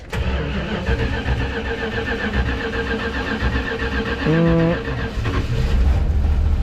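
A 1965 Plymouth Fury V8 cranks steadily for several seconds, then catches and fires, settling into a loud, rough idle close by.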